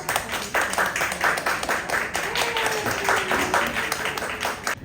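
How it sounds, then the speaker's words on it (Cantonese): An indoor audience applauds to welcome a speaker at a talk, a steady patter of many hands clapping at moderate loudness throughout, without pause. "不如我哋用掌聲歡迎啊"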